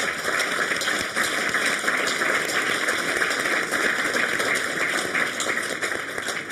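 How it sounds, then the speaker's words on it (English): A live debate audience at the World Economic Forum in Davos applauds its panelists, producing a steady, dense wash of clapping that holds at an even level throughout. "A round of applause, I think, is appropriate at this stage."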